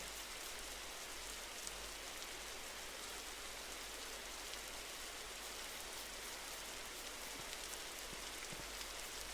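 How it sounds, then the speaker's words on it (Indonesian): Steady rain splashing in a rainforest expedition video game, a dense, even hiss of droplets that carries on unbroken and fairly faint with no voices. "Ini ada suara-suara percikan air hujan gitu tapi kok nggak ada hujannya ya guys?"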